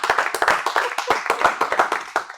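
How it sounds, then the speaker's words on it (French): A small audience at an awards show claps in quick, irregular bursts, individual hand claps distinct and close, with no voices over them. "On peut également, encore une fois, les applaudir"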